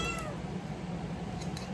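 A cat meowing indoors, a drawn-out vocal cry heard close and fairly clear over a low room hum, with faint clicks near the end.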